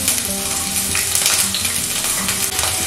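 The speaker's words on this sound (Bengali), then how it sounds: "তেলটা গরম হয়ে গেছে, এখন তেলের মধ্যে দিয়ে দিচ্ছি 1টা কুচানো পেঁয়াজ।" Chopped onion hits hot oil in a wok and fries with a loud, dense, continuous sizzle that stays close and steady throughout.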